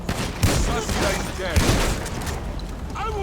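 Gunfire in the video game GTA V, police modification setting; a few sharp shots and bursts over a busy game soundscape with radio chatter and talk mixed in.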